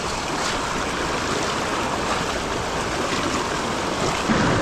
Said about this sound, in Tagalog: Malalim yung tubig, lakas ng current.